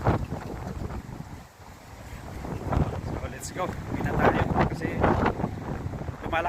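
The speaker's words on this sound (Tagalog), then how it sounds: "So medyo malakas yung hangin." Strong wind buffets the microphone outdoors on a city street abroad, a loud, uneven rumble that gusts and fades, heavy throughout with a brief lull early on, and talk mixed in beneath it.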